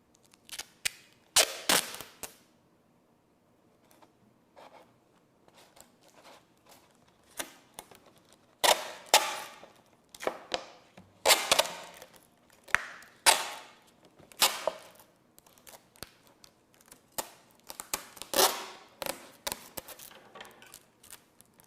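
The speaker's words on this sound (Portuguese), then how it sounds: "Vou colocar aqui uma fita isolante" Electrical insulating tape is pulled off the roll and wrapped around a model rocket's nose, giving sharp, close ripping and crackling bursts in irregular clusters with quiet gaps between them.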